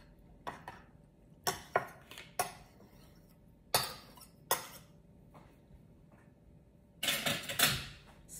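Metal spoon clinking against a cup while butter is spooned in, a scatter of light near taps and scrapes with a busier cluster of clatter at the end.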